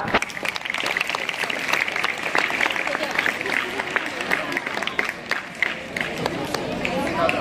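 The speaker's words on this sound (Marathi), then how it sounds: "सगळ्यांनी जोरदार टाळ्या वाजवाव्या" Steady, dense clapping fills the hall at a school jayanti event for Swami Vivekananda and Rajmata Jijau, a full audience applauding continuously with some background voices.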